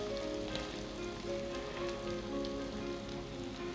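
Crushed garlic sizzling in hot oil for anchovy fish curry, a soft, even, rain-like crackle that holds steady and close with no talking.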